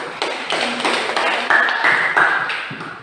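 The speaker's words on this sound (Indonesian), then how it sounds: "Oke, beri tepuk tangan dulu." A class applauds in a brief burst of clapping lasting about three seconds, loud and close, with no one speaking over it.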